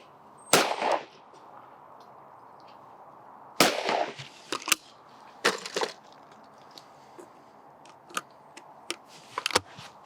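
A 20 bore shotgun fired at clay targets on a shooting stand: several sharp, separate reports spaced seconds apart, fairly close, with fainter cracks and knocks between them in an otherwise quiet outdoor setting.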